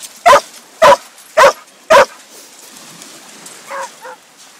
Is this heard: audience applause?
no